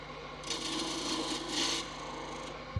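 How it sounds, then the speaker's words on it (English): Gouge shaving a thin, flexing eucalyptus wand on a wood lathe with light cuts, a soft continuous scraping hiss with gentle swells, close and fairly quiet. "I can feel it flexing under the gouge, and I'm not taking big cuts."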